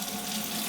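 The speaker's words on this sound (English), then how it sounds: "I'm going to start running the water" Water runs from a kitchen sink faucet into a pan in a sink that was clogged, a steady soft hiss and splash that stays even and fairly faint throughout.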